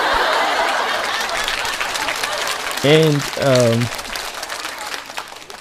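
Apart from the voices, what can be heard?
applause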